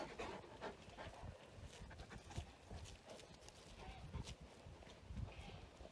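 Maremma sheepdogs panting close by in quick, steady breaths near sheep, with faint movement and occasional footfalls around them.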